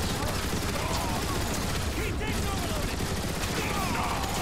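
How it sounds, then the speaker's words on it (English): Turret gunfire in the video game War for Cybertron, dense rapid bursts and blasts forming a continuous loud barrage, with faint voices mixed in beneath. "Those turrets will cut them down with their own weaponry."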